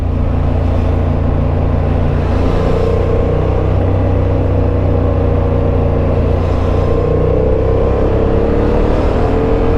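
Steady, loud motorcycle engine rumble and wind roar fill the ride through city traffic near Nîmes, France, with surrounding cars faintly passing and accelerating underneath.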